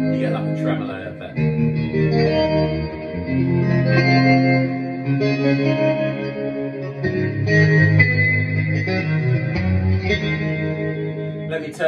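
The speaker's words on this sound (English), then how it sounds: "If I go to pedal two, switch that on, because I'm on the overdrive and tremolo's next to it, it looks like you get like a tremolo effect." Electric guitar played through a Vox Valvetronix VT40X 10-inch 40-watt combo amp with overdrive and tremolo switched on, sustained distorted chords pulsing with a wavering tremolo and reverb, loud and close, with no talking.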